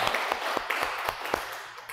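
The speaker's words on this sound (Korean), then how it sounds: "우리 박수로 한번 환영하십시다" A church congregation at a Wednesday worship service applauds to welcome visitors: a soft, steady patter of many hands with a few sharper claps standing out, heard at a moderate distance and without speech.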